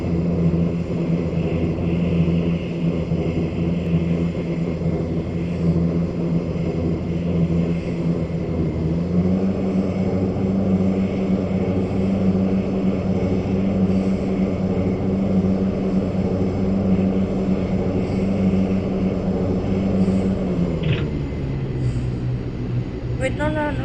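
A loud, steady propeller engine drones from an MC400 plane after an emergency landing in a flight simulator game, holding a constant hum with a slight pitch shift near the end.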